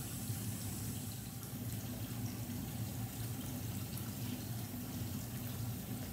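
Tap water runs steadily into a film development tank as a developed roll is rinsed, a constant low, soft splashing wash with no talking.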